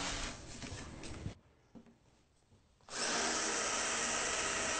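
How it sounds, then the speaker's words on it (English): Pegboard being drilled with a countersink bit from the underside, heard as a loud, steady power-drill whine that stops briefly and then resumes stronger, with no speech. "Two countersinks are drilled from the underside."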